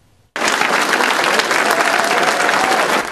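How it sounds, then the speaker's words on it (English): A crowd of civilians and soldiers on their feet cheers and applauds for the Illinois National Guard's first female brigadier general, with loud, dense clapping that starts abruptly and holds steady throughout. "A crowd on their feet, civilians next to soldiers, cheering for the Illinois National Guard's first female Brigadier General"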